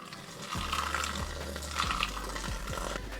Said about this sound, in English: So I'm just going to submerge the hops with the hot water.